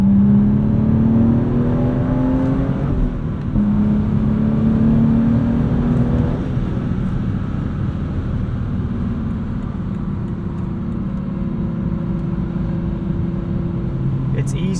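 Modified 2016 BMW 435i with a six-speed manual, its engine pulling hard through the gears on a highway, a steady loud drone with rising tones that dip at shifts before climbing again, heard from inside the cabin.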